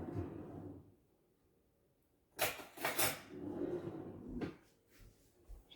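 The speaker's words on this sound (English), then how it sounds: "Let me get another spoon." Spoon and dishes clatter in a home kitchen while potato salad is being finished, a few close, sharp knocks and scrapes in quick bursts after a quiet pause.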